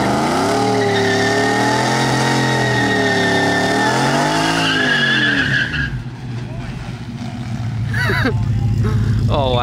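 A Whipple supercharged Ford F-150 pickup launches in a drag race, its engine loud and close with rising revs and a supercharger whine, then a sharp gear change and renewed hard acceleration, tires squealing as it pulls away.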